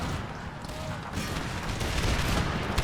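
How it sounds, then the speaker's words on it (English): Cannon fire with canister shot during a battle in Empire: Total War, a dense rolling fusillade of gunfire and booms blended with continuous battlefield din, loud and steady throughout. "Come on, cannon. Just one more blast. Get that canister fire open."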